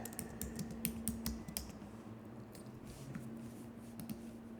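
Quiet keystrokes on a computer keyboard, a quick run of taps at the start and a few scattered clicks later, over a low steady hum.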